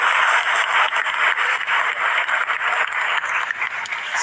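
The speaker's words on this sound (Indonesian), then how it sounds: "Bagus, tepuk tangan." A young audience at a political talk gives a steady burst of applause, continuous bright clapping from a nearby crowd lasting throughout.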